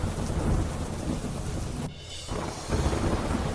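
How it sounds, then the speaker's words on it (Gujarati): Heavy rain pours steadily in Amreli, Gujarat, with strong wind and a deep thunder rumble, a dense loud wash that briefly drops away before the downpour swells again. "ભારે પવન સાથે અનેક વિસ્તારોમાં ધોધમાર વરસાદ પડ્યો"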